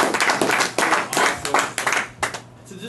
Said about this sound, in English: Let's give Blake a round of